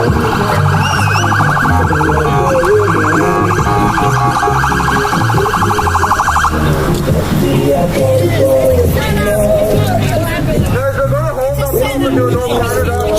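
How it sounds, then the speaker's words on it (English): Wailing ambulance siren cycling loudly and close at a Toronto street protest, shifting pattern midway, with voices and street noise mixed in. "Seems like there's an ambulance coming through."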